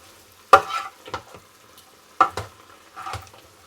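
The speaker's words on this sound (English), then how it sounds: "While that's sizzling away" Chicken casserole sizzles quietly in a pan while a utensil scrapes and stirs in four distinct strokes, each followed by a brief crackle.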